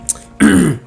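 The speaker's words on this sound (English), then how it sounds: "clear your throat" A single short, rough throat clearing, close and loud, preceded by a faint brief click.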